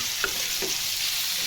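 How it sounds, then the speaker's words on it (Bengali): Fish frying in a pan, a loud, dense, continuous sizzle with a couple of soft stirring knocks. "মাছ ভেজে মাছটাও ভুনা করব"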